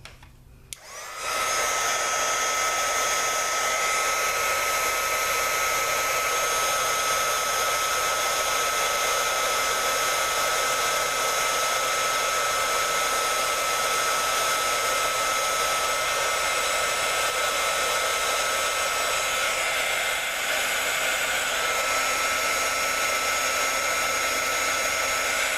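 A heat tool blowing over puff paint on a handmade card, a loud, steady whoosh of hot air that starts abruptly and runs without a break, with no voices.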